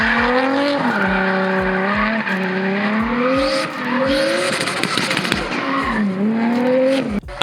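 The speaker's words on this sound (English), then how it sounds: "Even the owner of the property drifts with you in his R33 Skyline." A Nissan R33 Skyline drifts around a private racetrack at a rental property, its engine roaring loud and close with repeated rising and falling revs while the tires squeal continuously, with no talking.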